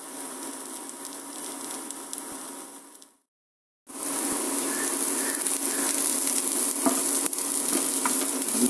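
Oil sizzling steadily in a pan as coriander is sautéed until crisp, with stirring scrapes throughout and a brief silent gap partway before the frying resumes loud and close.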